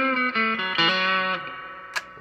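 An electric guitar on the bridge pickup plays a few distorted notes through a 1978 Roland GA-20 solid-state amp with a 12-inch speaker, each note shifting in pitch, then a short bright pick scrape near the end.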